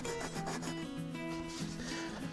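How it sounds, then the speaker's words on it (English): Steady, soft rubbing and scraping of sandpaper on wooden guitar braces in close, continuous back-and-forth strokes, fairly quiet with no talking. "We'll sand this off and keep going and clean the top up."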